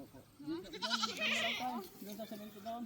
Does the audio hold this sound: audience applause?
no